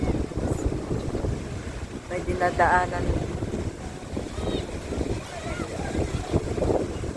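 Strong water of the Dupinga River in Gabaldon, Nueva Ecija rushes in a continuous, roaring wash with gusty wind noise, while people talk over it.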